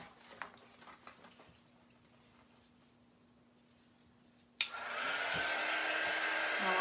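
A hair dryer drying chalk paste on a craft project kicks on abruptly after a stretch of quiet tapping and handling sounds, then blows as a steady, loud whooshing hum.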